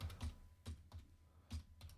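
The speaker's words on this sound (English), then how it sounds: "Typing it in the chat now." Typing on a computer keyboard, a handful of soft, close key clicks in an uneven rhythm, quiet and alone with no talk.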